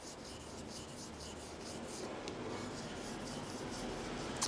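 A blade bevel and backside being polished on a natural Japanese sharpening stone, a soft continuous rubbing hiss with faint rhythmic strokes, quiet and close, with no talk.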